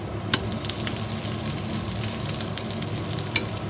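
Moringa (drumstick leaf) dosa frying in oil on a hot pan over low flame, a steady close sizzle with small crackles and a couple of sharper pops, no talking.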